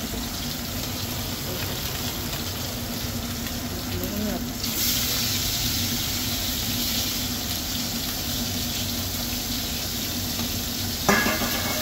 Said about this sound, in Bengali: চালটা কমায় আস্তে আস্তে মাছটা ভাজি দেবো